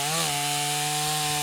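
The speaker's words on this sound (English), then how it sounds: "when you're cutting, this thing's gonna spin this way and pull your chainsaw into the log" A chainsaw bites into a log with a loud, steady engine whine that dips slightly in pitch as it loads into the wood, sustained and close with no talk.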